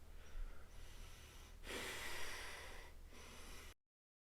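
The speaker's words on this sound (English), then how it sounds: "I'm breathing out through my mouth just to regulate my breath" Close, breathy exhalations through the mouth during a breathwork session, with a louder sustained outbreath in the middle of a few seconds of steady airy breathing, no talking.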